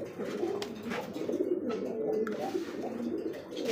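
Pigeons coo repeatedly in soft, rolling, throaty calls close by, overlapping one another at a moderate level against a quiet background with no talking.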